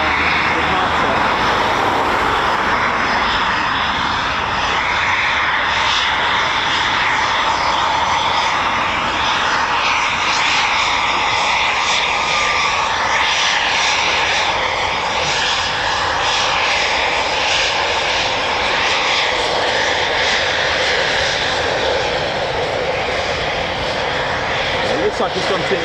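A Typhoon FGR4 jet departing RAF Coningsby on a practice quick reaction alert launch, its engine roar broad and steady throughout, loud and continuous with voices talking over it.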